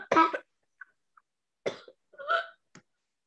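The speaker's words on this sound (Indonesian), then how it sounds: "Oke, maaf tadi barusan batuk." A woman teacher coughs several times during an online school meeting: a strong close cough, then two smaller throat-clearing bursts and a final short cough, separated by silence.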